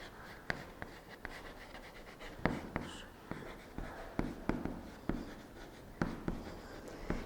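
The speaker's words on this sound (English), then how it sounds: "All of you take a notebook and write a question." Pens scratching across notebook paper as students write in a classroom, a close, quiet scraping with irregular taps and strokes repeating throughout, no talking.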